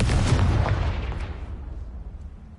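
A spell-casting effect in the video game Hogwarts Legacy: a heavy booming blast that rumbles and then fades out over about two seconds.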